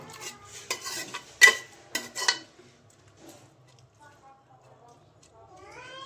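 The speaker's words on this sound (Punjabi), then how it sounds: "ਇੱਕ ਮਿੰਟ ਤੱਕ ਇਹਨਾਂ ਨੂੰ ਹਿਲਾਉਂਦੇ ਰਹਿਣਾ ਚਮਚ ਨਾਲ" A spoon stirs Maggi noodles in a pressure cooker, giving a few close clinks and scrapes early on, then fading to quiet, with a person talking throughout.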